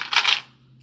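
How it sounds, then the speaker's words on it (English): Novelty sci-fi currency coins clink as they are dropped and handled, a bright metallic jingle up close that rings briefly and fades into a quiet room hum. "I also collect novelty coins."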